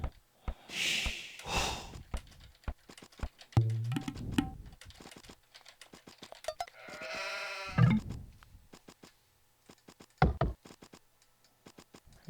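In an Age of Empires match, sheep give a few wavering bleats, one prominent near the middle, among dense clicks, snorts and breathy bursts of game noise, without talk.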